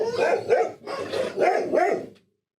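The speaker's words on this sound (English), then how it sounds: "The dogs agree. Intruder alert." Several dogs bark in a series of loud, close yaps and bow-wows, four or five bursts over two seconds before stopping abruptly.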